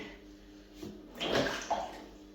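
Liquid pours into a tub of water with a splashing gurgle that swells in the middle and fades, preceded by quieter faint sloshing, while mixing paint for an Erbuaer airless sprayer.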